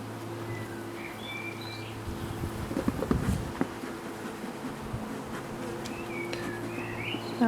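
A steady swarm of honeybees hums loudly close by around a hive, a dense continuous buzz with individual insects droning past and faint birdsong in the background.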